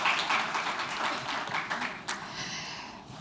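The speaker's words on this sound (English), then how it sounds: "Another round of applause as they make their way off stage" An audience at an African urban forests forum applauds as the mayors leave the stage, a short burst of clapping that starts loud and tapers off, with a faint voice underneath.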